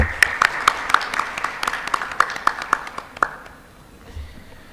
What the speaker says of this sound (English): In your huge round of applause, please help me welcome Mr.